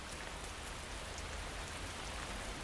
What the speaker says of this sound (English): The rain moves on after just a few minutes.